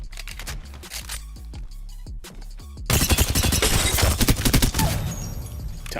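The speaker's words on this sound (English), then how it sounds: "you can hit fire from that distance on an SMG" Rapid bursts of SMG hip fire in a video game, starting with a few spaced shots and then a dense, loud stream of automatic fire.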